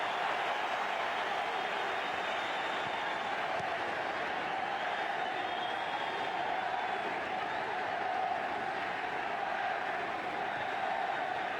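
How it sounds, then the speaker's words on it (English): A packed football stadium crowd at the MetLife Stadium during a Juventus versus Barcelona match, a steady broad roar of cheering and applause that holds evenly and fairly loud from start to finish. "The crowd are absolutely in raptures here in the MetLife Stadium"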